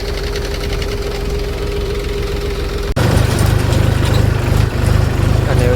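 A tractor engine idles and knocks steadily while being filled with soil by a JCB on a farm, loud and close, growing heavier and rougher after a sharp click halfway through.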